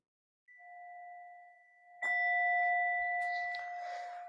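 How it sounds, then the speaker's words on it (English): A meditation bell is struck twice, each strike ringing out with a clear sustained tone in a quiet room, the second louder and lingering with faint rustling underneath. "So I'm going to invite the bell."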